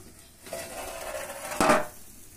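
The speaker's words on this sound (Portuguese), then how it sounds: "vai colocar a assadeira aí em cima" A metal roasting tray being set onto a charcoal grill above a pork leg roast, with a faint scrape followed by a sharp metallic clatter near the end, close and moderately loud.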